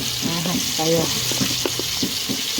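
Chicken sizzling as it fries in oil in a pot over an outdoor coal fire, a steady bright hiss running throughout with faint clatter and a voice talking underneath.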